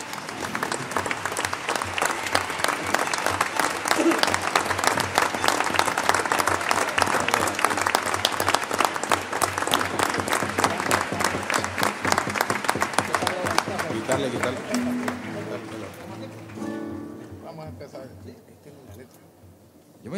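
Theatre audience at a 50th-anniversary gala of a trova group in Albacete's Teatro Circo breaks into loud, sustained applause that fades out near the end, with scattered voices beneath it.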